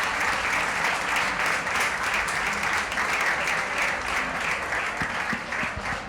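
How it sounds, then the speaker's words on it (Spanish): A seated audience at a book presentation on shepherding gives a loud, sustained round of clapping that fills the room evenly and fades slightly at the end. "os pido otro aplauso para José Fajardo, para Tomás Morcillo"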